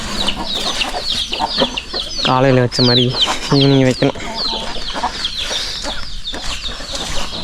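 Hens and roosters on a small farm cluck and squawk close by, with a couple of loud drawn-out calls in the middle, while someone talks over the birds.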